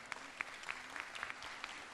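Light, scattered clapping from a small group, faint and steady, with sharp individual claps popping out over a soft background.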